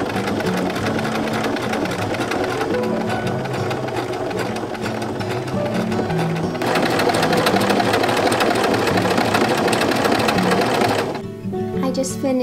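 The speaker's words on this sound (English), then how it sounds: "Now I'm just going to sew it together." A sewing machine stitches fabric together, a close, rapid, continuous mechanical chatter that speeds up partway through and stops near the end.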